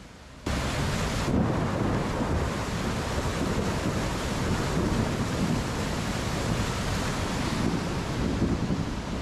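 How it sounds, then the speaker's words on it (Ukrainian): A dense, continuous roar of rumbling thunder and heavy weather noise from a storm with rain and wind in Yalta, Crimea, loud and sustained throughout with no voices. "гром классно гремит"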